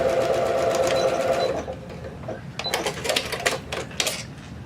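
A sewing machine stitching a fabric collar runs steadily at close range, then stops and restarts in short, uneven bursts, with light clicking and no voices.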